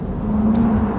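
A Honda car driven hard on a race track, its engine holding a steady, loud drone with a faint whine throughout, close to the listener and without speech.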